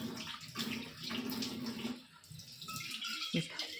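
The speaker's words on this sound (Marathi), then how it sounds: "आता मी याला फक्त पाण्याने धुवून घेणार आहे" Water splashes and runs over a copper pot being rinsed clean after scrubbing with salt, a steady close wash with brief pauses and a small clank near the end.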